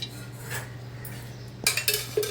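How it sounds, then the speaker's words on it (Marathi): Metal cooking pot set down on a gas stove while preparing a spicy country-chicken curry, giving a few close, sharp clanks and scrapes of metal near the end over a steady low burner hum. "मी आता पातेलं ठेवलेलं आहे गॅसवरती"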